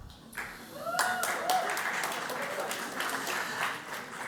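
Audience at the African Economic Global Convergence breaking into applause, a dense wash of clapping that swells in after a quiet start and holds steady, with faint voices underneath.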